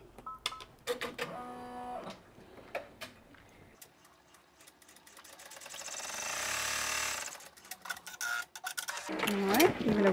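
Embroidery machine stitching a tack down line on an in-the-hoop photo box sign, rapid mechanical ticking in bursts that pauses and resumes, with a person talking over it.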